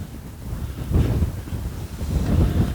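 Heavy wind buffets the microphone, a continuous low rumbling roar that swells and fades in gusts, with no other clear sounds.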